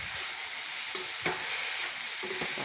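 Spices with turmeric and salt frying in a pan for a meat curry, a constant hissing sizzle close by with a spoon scraping and stirring in short strokes, with no talking.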